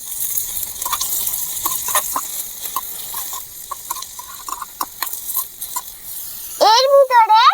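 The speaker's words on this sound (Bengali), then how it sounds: "টমেটো কুচি আর পেঁয়াজ কুচি দিয়ে সবকিছু একটু নাড়িয়ে চাড়িয়ে" Chopped tomato and onion being stirred in a tiny miniature pan for egg Maggi, producing light scraping taps and a faint sizzle, followed by a short, chirpy, bird-like call near the end.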